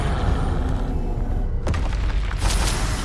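A Confringo spell explosion in the Hogwarts Legacy video game, a loud booming blast with a sharp crack near the middle and a rumbling, dense game soundscape around it.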